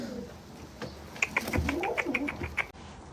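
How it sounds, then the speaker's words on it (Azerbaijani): Tumbler pigeons coo close by, a short soft run of throaty notes with light fluttering and scuffing around them, and no voices. "tutulma quşlar gəldi."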